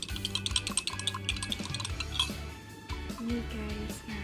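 A spoon stirs lime juice and honey in a glass, clinking quickly and repeatedly against the sides in a bright, close, continuous rattle.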